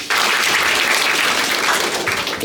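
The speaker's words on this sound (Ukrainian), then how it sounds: "Аплодуйте." An audience applauds at a blood-donation event after a quiz on blood groups, a dense, loud burst of clapping that holds steady for a couple of seconds and then tapers off.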